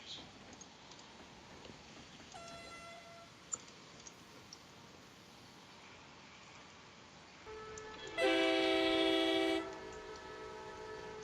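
A train horn in the railway game Terminal Railways sounds one loud, steady, chord-like blast of about a second and a half, after a fainter tone earlier over a low rolling background.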